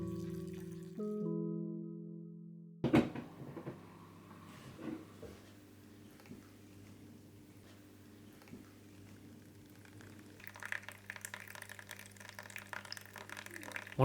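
Water runs into a flooded cave-style aquarium tank, a soft, steady trickle and bubbling with occasional splashes, fairly faint and close, growing busier toward the end.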